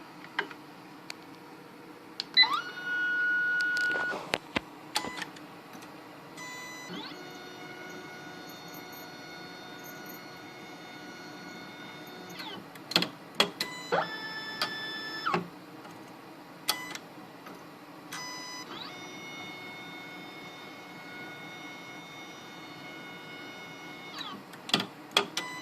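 A Santinelli Nidek LE9000SX lens edger's tracer running over a calibration jig, giving off quiet mechanical ticks, whirring motor tones and intermittent beeps in a low, steady machine-room hum.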